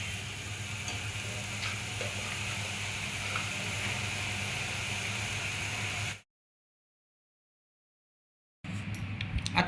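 Spinach soup ingredients sauté in ghee in a pan with a constant soft sizzle and a few stirring clicks, then a few seconds of silence before the sizzle returns.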